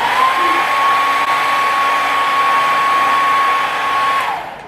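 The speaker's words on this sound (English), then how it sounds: "I'll just hover around for a few minutes and then I'll turn the blow dryer off" A blow dryer fitted with a diffuser dries hair, a loud, close, steady whirring blast with a constant tonal whine that runs unbroken before fading as it switches off at the end.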